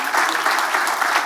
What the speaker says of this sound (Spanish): Un aplauso para Oscar Rentería